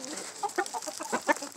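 Backyard chickens cluck eagerly while waiting for a snack of worms, a quick, close burst of short overlapping clucks and murmurs from several birds.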